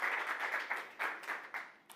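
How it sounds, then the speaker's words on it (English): Conference audience applauding on a studio stage, a scattered patter of clapping that rises in a few separate bursts and gradually thins out, fairly quiet and slightly distant, no speech. "Round of applause."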